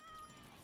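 A domestic cat meows faintly in the background, a thin drawn-out call heard alone at low volume.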